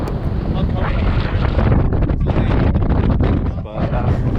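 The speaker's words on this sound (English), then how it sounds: "As you can hear, it was awful windy on top." Strong wind roars across the top of Caerketton Hill in the Pentland Hills, a loud, continuous buffeting rumble that batters the microphone, with a voice faintly underneath.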